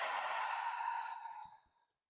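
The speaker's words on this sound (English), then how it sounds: "Breathe in and out." A long, soft exhale during yoga breathing, a close breathy whoosh that slowly fades out over about two seconds, followed by faint small sounds.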